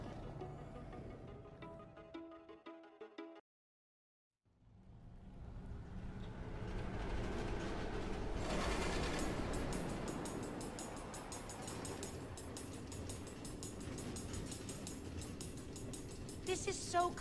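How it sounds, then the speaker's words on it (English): An automated minecart train in Minecraft Story Mode runs along tracks through the Nether, producing a steady rumbling, clattering roll that builds after a brief silence, while a person talks over it. "Automated train tracks running all through the Nether, connecting all the different order members?"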